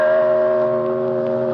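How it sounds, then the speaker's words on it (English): A large, heavy bell on the grounds of a country estate, rung to summon the servants, sounds as one loud sustained strike with a rich humming tone that rings on steadily without fading, alone with no talking. "that is quite a bell to summon the servants"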